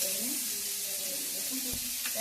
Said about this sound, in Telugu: ఇప్పుడు ఉల్లిపాయలు వేసుకుంటున్నాము మనము.